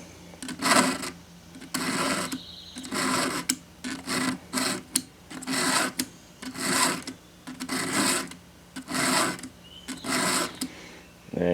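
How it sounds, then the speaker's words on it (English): A hand file rasps across chainsaw chain teeth in steady back-and-forth strokes, about a dozen rhythmic scraping passes, close and loud with short pauses between them. "Now you can get to the other side and file it just like this."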